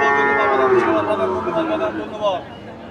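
Cattle low with long, drawn-out moos at a rural cattle market in Shahapur, Dumuria, close and loud, with people talking and crowd babble around.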